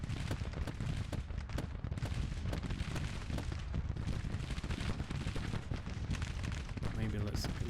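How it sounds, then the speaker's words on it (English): Artillery bombardment in the Civil War strategy game Grand Tactician: dense, steady rumbling barrage of distant booms and crackling gunfire filling the whole stretch, with a voice talking faintly underneath. "Have to watch with the old danger close bombardment there"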